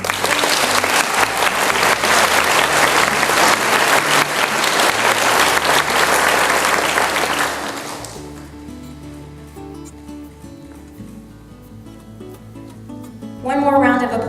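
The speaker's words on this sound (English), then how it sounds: "One more round of applause for these outstanding graduates of the class of 2017." A roomful of people applauds graduates of the class of 2017 at a National Honor Society breakfast. The dense, loud clapping lasts several seconds, then dies away to quiet room tone, and a voice briefly speaks at the end.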